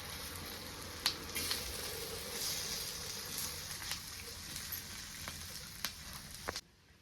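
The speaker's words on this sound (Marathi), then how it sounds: "हे पण मी ह्याच्यावर ठेवून थोडंसं तेल टाकून दोन्ही साईडनं चांगलं भाजून घेणार आहे" Green bell peppers sizzle in a little oil on a hot griddle, a steady close frying crackle with occasional sharper pops and spatters, heard alone.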